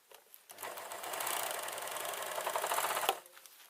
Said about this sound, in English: I'm going to start sewing again.